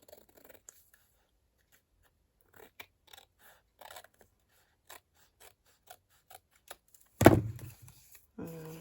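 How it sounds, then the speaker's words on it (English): Scissors snip through paper while a window envelope tag and matching pocket are made: faint scattered clicks of handling, then one loud close cut near the end, followed by a brief rustle. "And then I'll snip this off."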